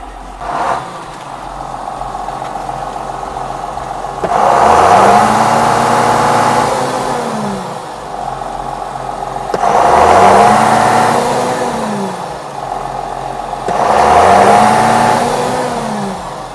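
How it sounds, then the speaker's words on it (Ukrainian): A large diesel engine of a John Deere 6620 tractor idles steadily, then revs up three times in even swells, each rise and fall clearly audible and close by. "Приємний, рівний і потужний звук джундіра."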